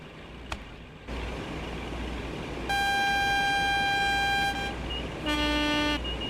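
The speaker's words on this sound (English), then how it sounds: "Definitely sounds like an AWS horn." An AWS warning horn sounds inside a simulated train cab in a railway simulator game, with a long steady electronic tone followed by a shorter second blast over a constant low cab rumble, no talking.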